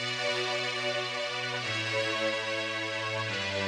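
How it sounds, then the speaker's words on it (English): Sustained synthesizer chords changing a few times, gate off, smooth and steady, playing alone without any voices. "synth that originally would sound like this"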